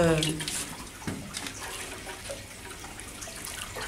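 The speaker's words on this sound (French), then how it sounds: "Voilà, moi j'arrose." Prickly pear cactus cutting being watered, a soft splashing pour of water into the pot that fades to a gentle trickle, with a voice speaking faintly over it.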